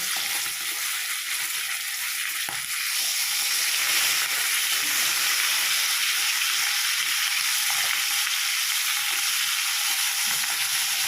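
Bata fish frying in oil in a pan after being turned over, a continuous bright, hissing sizzle that stays loud and steady throughout with a few faint knocks.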